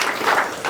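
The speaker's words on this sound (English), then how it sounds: "Yeah, round of applause." A short burst of dense audience applause at a London DevOps meetup, steady and fairly loud clapping from a room of people.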